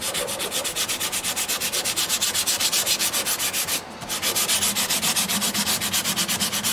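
Fingers sand the finish on a custom 12-string dreadnought acoustic guitar in quick, even back-and-forth strokes, a soft rhythmic scratching that pauses briefly midway and then carries on alone.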